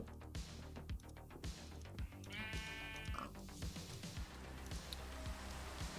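A Minecraft-style video game sheep bleats once with a wavering, buzzy cry over steady rhythmic game music and repeated footstep-like thumps.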